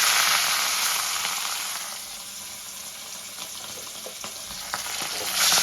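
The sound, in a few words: rohu fish frying in hot oil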